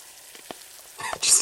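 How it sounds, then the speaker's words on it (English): Food sizzles in a pan, starting as faint scattered crackles and swelling into a louder, hissing frying burst near the end, close by with no voices. "you hear a crack of an egg and the sizzle of a pan in the kitchen"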